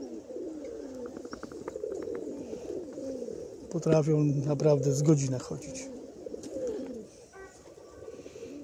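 Pigeons coo in a low, repeated warble close by while someone talks over them.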